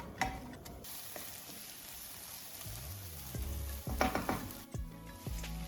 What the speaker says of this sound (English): add the crushed garlic and diced onion to the hot oil. Fry them for about 2 to 3 minutes until the onions become translucent and aromatic.